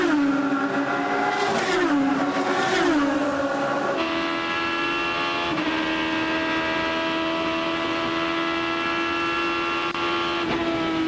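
IndyCar race cars at the 2011 Long Beach Grand Prix street circuit scream past, engine pitch dropping sharply as they brake for the heaviest braking zone, then a steady high onboard engine drone continues.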